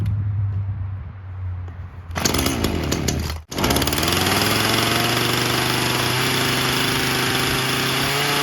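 A chainsaw is started outdoors before cutting a tree: quiet background, then a loud sputtering start, a brief cutout, and the engine catching into a steady, loud, close running drone.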